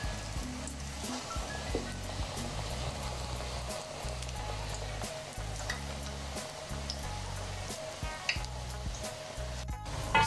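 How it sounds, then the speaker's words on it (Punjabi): Zucchini kofta balls fry in a shallow layer of hot oil, giving a steady, busy sizzle and crackle with occasional low bumps and stirring sounds, close and continuous throughout. "ਅਤੇ ਚਲੋ ਇਹਨਾਂ ਨੂੰ ਫਰਾਈ ਕਰ ਲੈਂਦੇ ਹਾਂ"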